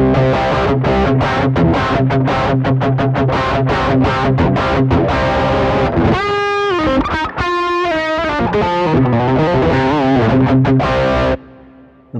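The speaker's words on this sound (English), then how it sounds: "Reminds me of those like early late 80s kind of Satriani tones, a lot of like upper mids." An electric guitar played through a ZUTA LA25 MKII distortion pedal gives loud, saturated chords with bright upper mids, then a run of fast notes, and the tone cuts off near the end. A voice briefly exclaims.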